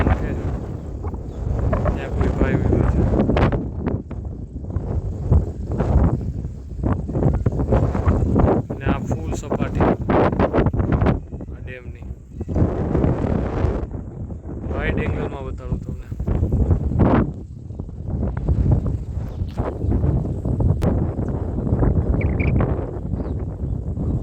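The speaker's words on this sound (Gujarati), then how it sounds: "એકદમ એકદમ મસ્ત પવન આવે છે" Strong gusts of wind blow across a dam over a river, buffeting the microphone in loud, uneven bursts while someone talks over it.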